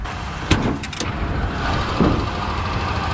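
Ford F100 truck engine idling with Holley Sniper EFI and progressive throttle linkage, a quiet steady low rumble heard up close with a few brief clunks near the start.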